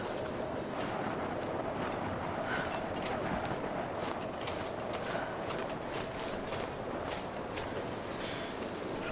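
Storm wind in The Long Dark survival game roars steadily throughout, a dense hissing rush with faint gusting surges and no voices over it.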